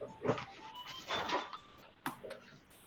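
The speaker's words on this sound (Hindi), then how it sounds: "इसने कुत्ता पाल लिया घर में और उसकी आवाज आ रही पीछे भौंकने" A pet dog kept at home barks faintly in the background, a few short, distant yelps spread out over a quiet room.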